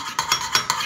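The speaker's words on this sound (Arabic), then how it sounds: "انزل الشبت والبقدونس نقلب، تمام، قلبت مليح." Tuna salad with dill and parsley stirred with a spoon in a bowl, four quick scraping strokes in an even rhythm, close and moderately loud.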